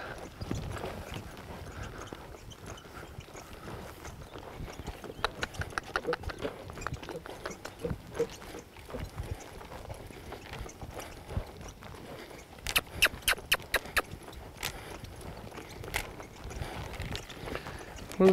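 A young horse lopes during a colt-starting session, its hoofbeats thudding in a loose repeated rhythm on the ground, with bursts of sharper hits midway, at moderate distance.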